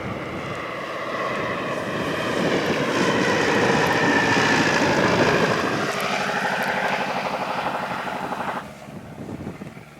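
A small plane lands on an Alaska airstrip in wind, its propeller engine droning loud and close, then dropping in pitch before cutting back to a lower, rougher idle near the end.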